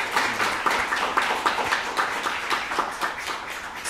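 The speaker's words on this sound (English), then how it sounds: "give them a round of applause" Audience applause for the speakers at a panel discussion, a steady, dense patter of many hands clapping that fills the whole stretch without a break.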